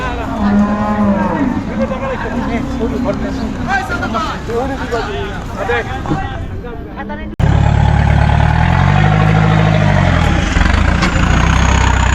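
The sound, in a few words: cows mooing at a cattle market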